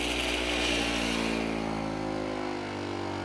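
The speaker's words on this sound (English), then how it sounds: "If you hold them on there, they'll do that, and they'll break up all of that hard packed grease and get it out of the wheel." A rotary wire brush on a power tool grinds hard-packed grease off an old train wheel, a loud continuous whirring buzz that eases slightly toward the end.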